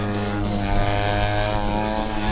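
A Flex Innovations Edge 540 35% scale RC aerobatic plane with a 120cc engine flies at Weston Park, giving a steady, loud propeller drone with strong harmonic tones and no voices.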